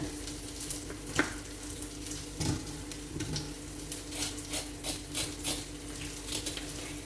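Potatoes fry in a pan for a potato dry fry, a soft continuous sizzle with light stirring scrapes and clinks scattered throughout, no voices.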